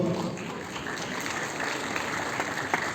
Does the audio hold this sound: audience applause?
yes